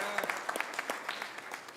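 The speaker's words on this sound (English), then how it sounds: "Let's give ourselves a round of applause," Light, sparse applause from a small audience at a Trinidad and Tobago gathering, individual claps picking out an irregular patter, soft and somewhat distant, with no voices over it.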